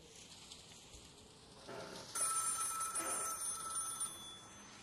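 A telephone rings inside a VR horror video game, a faint distant bell heard over a quiet ambient hum, growing a bit louder partway through.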